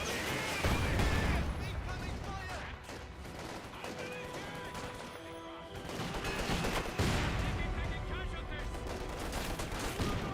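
Mortar fire in Company of Heroes 2, with repeated booming impacts and gunfire crackling through a dense, steady battle din, under a voice talking throughout.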